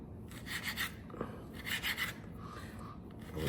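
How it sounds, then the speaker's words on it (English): A knife finely chopping leek on a board, soft rhythmic rasping cuts in short bursts, quiet and close with no talking. "then I'm going to chop it even finer"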